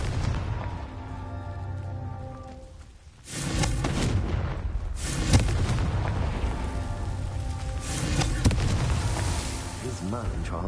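A Confringo fire spell bursts in Hogwarts Legacy, with heavy booming blasts rising twice over a steady rumbling game backdrop and a sustained roar between them.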